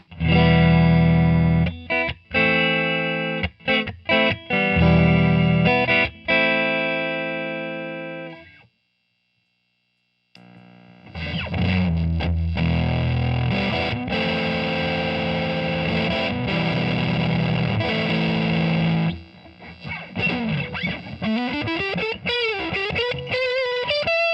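Electric guitar through a BK Butler Tube Driver overdrive pedal plays chords and sustained notes with a warm, fuzzy tone, a short silent gap midway, ending in bending, wavering notes.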